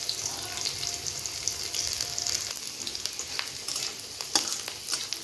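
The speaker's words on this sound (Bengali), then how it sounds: "তেলটা গরম হয়ে গেছে, কাটানো রসুন দিয়ে দিব।" Chopped garlic frying in hot oil for a mutton and drumstick curry, a steady close sizzle with intermittent spatula scrapes and stirs, no talk.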